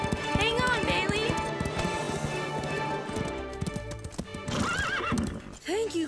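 Horses whinny and neigh over steady clip-clop hooves, busy and close, with voices talking throughout in a cartoon horse-stable scene.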